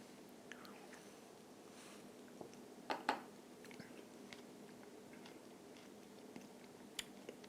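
Quiet, close-up chewing of a moonshine pickle with a couple of sharper crunchy bites near the middle, soft and intermittent against a hushed background.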